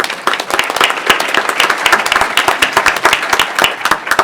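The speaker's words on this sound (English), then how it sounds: "So let's give her a little round of applause" An audience at a Great Lakes public forum gives a round of applause, dense steady clapping from many hands filling the room at close range, sustained throughout without speech over it.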